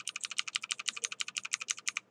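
Rapid, evenly spaced clicks of computer keyboard keys, about twenty quick presses over two seconds, close and crisp with no talking.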